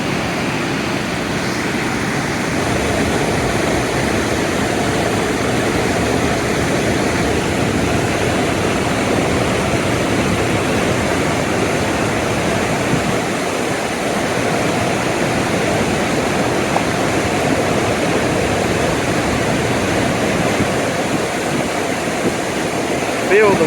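A waterfall on a river or creek rushes beneath a bridge with a loud, steady, dense roar, wind and spray mixed in, continuous throughout, with voices faintly under the noise.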